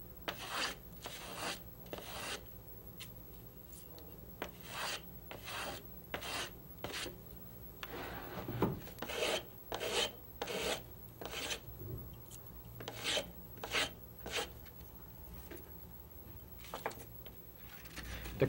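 Repeated rasping strokes of a small hand tool on guitar wood, steady and rhythmic, close up with no talking.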